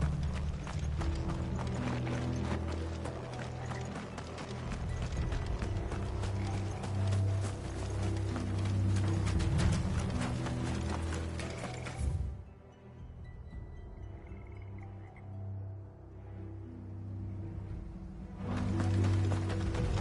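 Rhythmic hoof clip-clops of horses at a run in Final Fantasy XVI, pounding steadily under music, fading out for a few seconds before returning.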